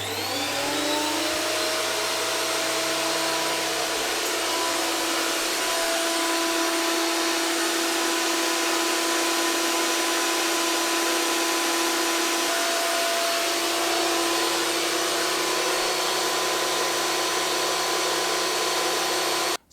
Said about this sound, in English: So as you have seen and heard, it's a pretty loud machine